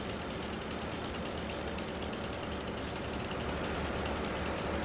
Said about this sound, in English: We'll just get rid of that with a chainsaw.